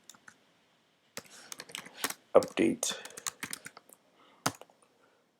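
Typing a terminal command on a computer keyboard, bursts of close, crisp key clicks in uneven runs, with a brief spoken word mixed in.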